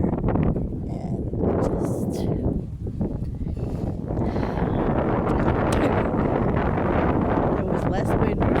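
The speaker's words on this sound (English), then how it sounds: "as you can see or hear, it's windy" Strong wind buffets the microphone with a steady, rumbling roar that swells and dips, nearly constant throughout and loud up close.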